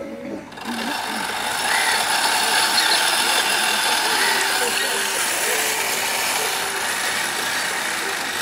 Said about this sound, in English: then on a crude machine spun into rope